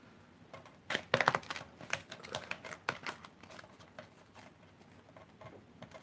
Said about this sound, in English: Okay, I'm going to give a little more shuffling.